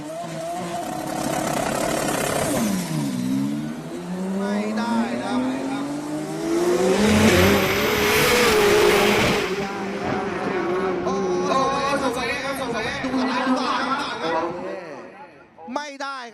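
A loud Pro Dragster Benzine drag racing engine roars and revs continuously with rising and falling pitch, tires squealing at times, ending in a sharp burst, at Souped Up Thailand 2025.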